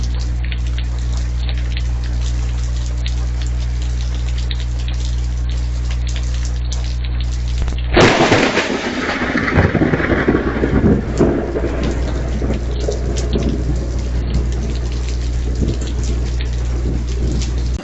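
A sudden, loud thunderclap cracks through a storm after a steady low hum, followed by a heavy, roaring downpour of rain that continues at full strength.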